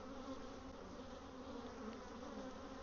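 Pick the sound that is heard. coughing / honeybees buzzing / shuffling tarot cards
honeybees buzzing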